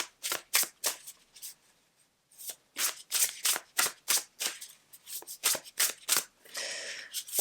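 Oracle cards from a Divine Abundance deck being shuffled by hand, a close run of crisp, rapid flicks and slaps in quick bursts with a short pause partway through.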